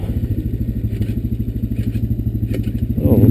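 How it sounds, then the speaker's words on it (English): A Honda Recon ES ATV engine running steadily while riding, a loud, even low thrum with a regular pulsing beat, swelling slightly at the very end. "the Recon ES is running good here. Scooting right along."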